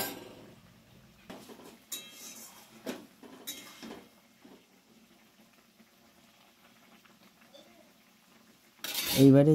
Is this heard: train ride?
no